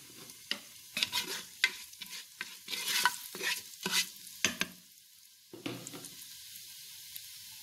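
Cumin seeds sizzling and crackling in hot leftover oil while a spoon stirs, giving uneven bursts of frying noise with scraping strokes, loud at first and then easing into a quieter sizzle.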